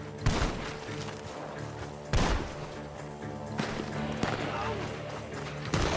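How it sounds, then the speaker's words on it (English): Sharp gunshots crack out at intervals amid Red Dead Redemption 2 game sounds and background music, with a voice talking over parts of it. "The gunshots are coming."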